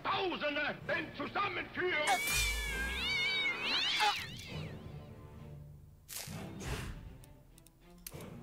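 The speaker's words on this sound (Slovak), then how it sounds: "Mačky. No jasné, že sú." Cats meow in the South Park: The Stick of Truth video game, several cries rising and falling over game sounds while people talk throughout.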